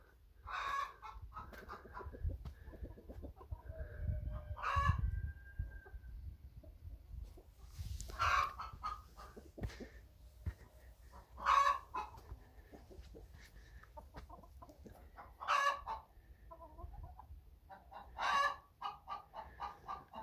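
Chickens and a young rooster on grass give a series of clucks and short crowing calls, repeated bursts spaced every few seconds over low background rumble, fairly close.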